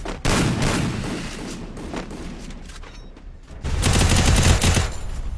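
Automatic rifle fire in the Free Fire video game: loud rapid bursts of shots, a lull, then another heavy sustained volley, with no clear talk over it.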